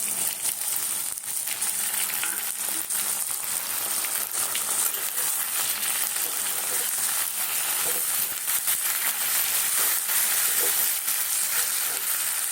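Green chillies and onion shoots fry in hot oil, a loud, dense sizzle with crackle and occasional stirring scrapes running steadily throughout.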